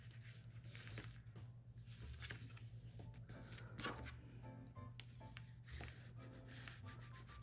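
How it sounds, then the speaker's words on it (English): A handmade paper album being burnished, a steady dry rubbing and scraping of a tool pressed across paper, close and continuous with faint hiss throughout. "And burnish it."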